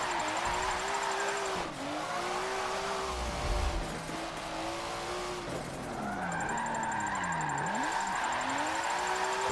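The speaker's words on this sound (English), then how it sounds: "I wonder if these tires are good for high speed drifting" Forza Motorsport 7 car drifting with a sustained engine drone that rises and dips with throttle and gear changes, overlaid by long tire squeals through sweeping slides, loud and continuous without talk.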